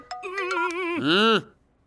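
A mobile phone rings in a Hindi-dubbed movie scene with a short electronic melodic ringtone of a few quick tones, followed by a brief rising warble, loud and clear with no talk.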